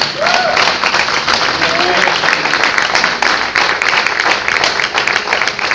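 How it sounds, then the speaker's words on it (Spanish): A church congregation at a Spanish-language service claps together in dense, fast, steady applause throughout. Voices call out and talk over the clapping. "Denle un aplauso al Señor."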